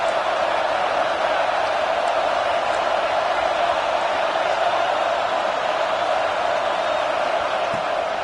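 Football stadium crowd roaring in a steady, distant wall of noise, broad and continuous with faint whoops rising now and then, while a commentator's voice runs faintly underneath.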